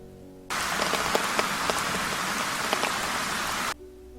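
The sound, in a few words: light drizzling rain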